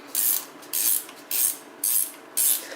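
Ratchet clicking as bolts are tightened onto an engine mount bracket for a B18 motor in a Geo Metro, five bright rasping bursts in steady rhythm, close and alone.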